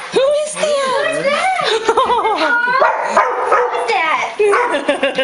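An excited dog barks and yips repeatedly at close range during an emotional homecoming reunion with a returning soldier, mixed with people's laughter and chatter throughout.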